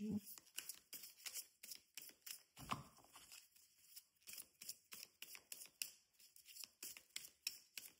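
Tarot cards being shuffled by hand, a rapid series of crisp riffling flicks and taps close by, repeating in short bursts over a quiet room.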